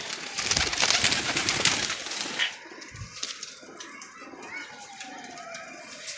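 Teddy pigeons coo softly among bustling background noise, with children's voices and nearby chatter at the start before quieter cooing and rustling.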